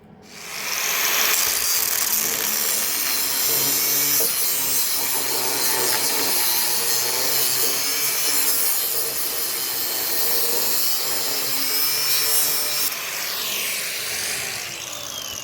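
Power tool cutting off a seized nut on the steering column of an old dumper, a steady, loud grinding-sawing whine that runs nearly throughout and fades slightly at the end.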